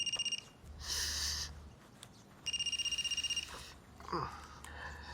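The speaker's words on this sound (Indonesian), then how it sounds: "Itu ada telepon." Telephone ringtone from a phone tucked in a jacket pocket, ringing in two clear bursts about a second long with a pause between them, loud and close, with faint sniffing noises around the rings.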